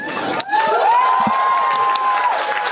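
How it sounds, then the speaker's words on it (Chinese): Staff of a private space company, Firefly Aerospace, cheer and clap in mission control as the Blue Ghost lander touches down on the moon, a bright crowd roar with a long sustained whistle riding over it. "这间民间太空公司的员工拢欢喜甲拍手欢呼"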